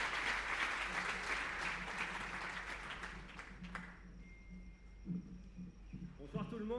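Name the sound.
audience applause welcoming association president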